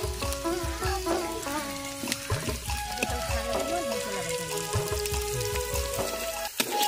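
Onion frying in oil for a tempering to pour over kolai greens: a steady close sizzle with scraping stir strokes and faint clinks, no voices.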